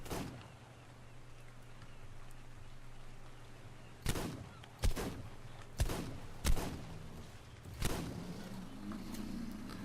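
Six pistol shots are fired at a Carnotaurus in Ark: Survival Evolved, spaced irregularly and rising in loudness, over a low steady hum of game ambience.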